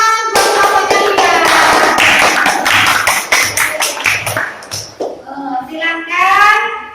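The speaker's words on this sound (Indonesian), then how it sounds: "tepuk tangan buat kelompoknya dia" A classroom of students claps for a student group with a burst of brisk, dense clapping. Children's voices and chatter rise as the clapping thins out.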